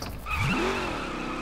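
In The Crew racing game, a car skids with a rising tire squeal and engine roar as it flips over, loud and close for a moment, with no one speaking.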